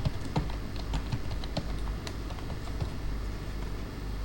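Keys clack at close range as a password is typed on a computer keyboard while logging into a Windows machine, a steady run of light taps over a low background hum.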